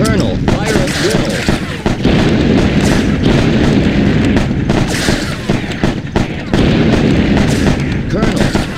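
Loud, dense gunfire and booming artillery from the World War II strategy game Sudden Strike Forever rattle continuously close up, with heavy thumps and overlapping shots forming a dense barrage that is barely interrupted.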